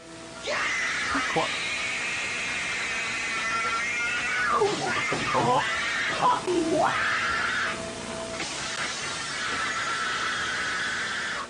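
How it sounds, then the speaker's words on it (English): A man shrieks like a wild animal while wrecking a room, with high, strained, wavering screams rising and falling in several long bursts and brief breaks between them, loud and close. "he is shrieking like a wild animal and destroying the whole room"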